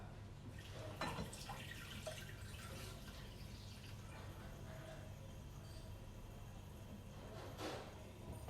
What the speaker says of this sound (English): fill in water.